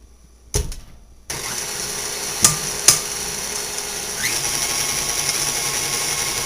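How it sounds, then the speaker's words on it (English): An electric mixer whips cream cheese filling for cupcakes with a steady, loud motor whir after a short start. Two sharp knocks against the bowl cut through the whir partway along. "I just scrape the bowl down and let it continue whipping some more till it's nice and creamy and smooth."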